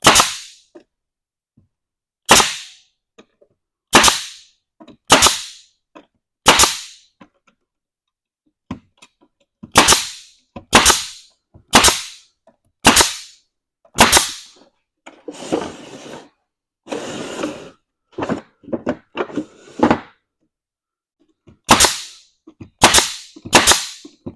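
A staple gun drives 1.5 inch staples into wooden bee frames, sharp loud snapping shots fired one after another in irregular bursts, with a brief stretch of rustling handling noise midway and no talk.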